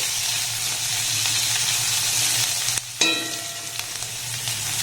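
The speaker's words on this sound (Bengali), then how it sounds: "পেঁয়াজ আর লঙ্কাটাকে এবার একটু হালকা নাড়াচাড়া করে ভেজে নেব।" Onion and green chillies fry in a pan with a steady, close sizzle throughout, briefly cut by a short gap and a clatter of stirring near the middle before the hiss resumes.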